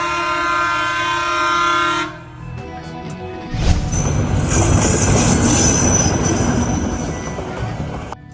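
Train sounds at Lovedale railway station near Ooty: a steady horn-like harmonic tone for about two seconds, then a loud, sustained rumble and rattle of a train moving close by with bright high squeal.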